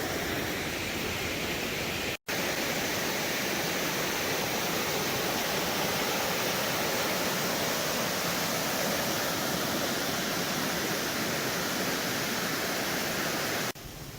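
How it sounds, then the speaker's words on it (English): A waterfall beside a river trail in New Hampshire's Franconia Ridge area roars as a loud, steady broadband rush that fills the whole stretch without letup, with no voices over it. "I've never seen this waterfall before."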